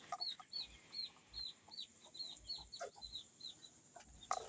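Chickens cluck in a repeated series of short, bright calls near the barracks, fairly close and steady over quiet background noise with no talking.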